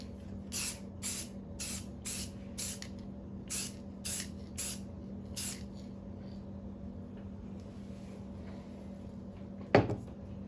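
Spray paint hisses onto a guitar body being repainted, about nine short bursts in an even rhythm over a low background hum, then a single sharp knock near the end, with no voices.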